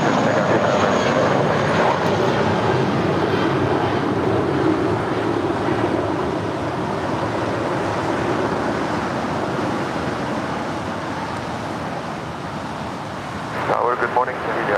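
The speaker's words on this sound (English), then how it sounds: "That was JetBlue Airways and the JetBlue Vacations livery. Flight 1463 heading to Cabo on an A320" A JetBlue Airways A320 airliner in JetBlue Vacations livery takes off at LAX. It gives a loud, sustained broadband jet roar that slowly fades over about fourteen seconds.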